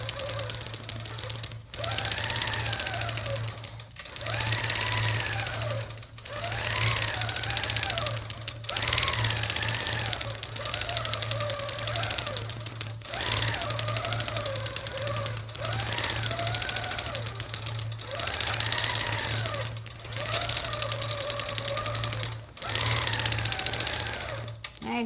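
Sewing machine stitching trace quilting on a quilt, running in steady bursts of rapid mechanical chatter separated by brief pauses, with a constant low hum underneath.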